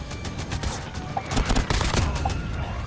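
Rapid bursts of automatic gunfire and sharp shots in a Call of Duty Mobile battle, dense and continuous across the whole stretch at steady loudness, with no talking.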